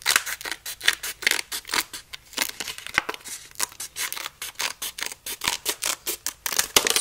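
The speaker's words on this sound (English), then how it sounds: "So just cut this in half so you can use it for 2 lenses." Scissors snip through material being cut into pieces for lenses, a quick, regular run of around two dozen crisp cuts, close and fairly quiet, with no talking.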